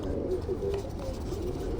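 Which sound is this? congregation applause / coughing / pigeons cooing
pigeons cooing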